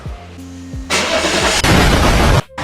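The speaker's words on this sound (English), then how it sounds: "Okay, not much pressure built up, and time to start the engine. This is a loud boy." A high-mileage BMW E38 sedan engine cranks with a few starter whirs, then catches and roars to a loud, rough idle close by, the engine note swelling and briefly dropping before it settles.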